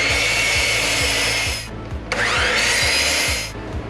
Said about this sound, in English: Take that over to my miter saw and get it cut.